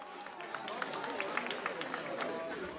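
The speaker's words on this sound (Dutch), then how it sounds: "Dames en heren, ik geef hem nog een daverend applaus." Audience applause at a song contest in Landgraaf, a dense, steady wash of many hands clapping with crowd noise mixed in, lively and sustained throughout.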